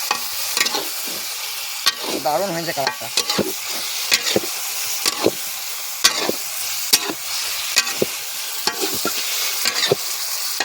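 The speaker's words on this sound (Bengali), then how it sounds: "এবার আলুটা দিয়ে দিছি এখন তো প্রায় হয়ে গেছে অর্ধেক ভালো করে একদম কষাই দেবে" Potatoes sizzle in a pan at an outdoor New Year picnic cooking session, with repeated sharp scraping stir strokes over a steady fry and a brief spoken comment partway through.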